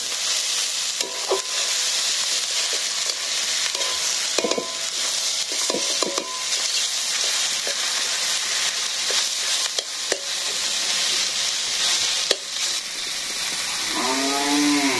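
Fish sizzling steadily in hot oil in a pan in a village kitchen while taro is cooked, a constant loud hiss broken by occasional clinks of stirring.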